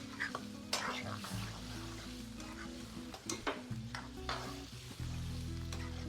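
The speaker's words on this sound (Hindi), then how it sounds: "तकरीबन 2 से 3 मिनट तक हमने इसको अच्छे से भून लेना है।" Chicken karahi fries in a restaurant-style pan with a constant loud sizzle, broken by scraping stirs and clattering of a spatula against the metal, close up, with no talk.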